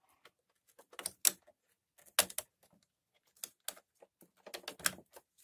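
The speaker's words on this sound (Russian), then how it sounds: "Все, щелчок был небольшой." An Epson L800 printer gives a few small sharp clicks and taps, close and quiet, in scattered bursts with silent gaps as the print head latches into place.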